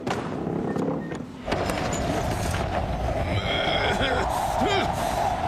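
Cartoon horses neigh and whinny amid a dense, busy soundtrack of galloping hooves, music and shouting voices, with a clear high whinny rising near the end.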